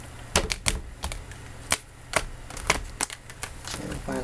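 Tarot cards being shuffled, a series of sharp, close riffling snaps and taps at an irregular rhythm, fairly quiet overall.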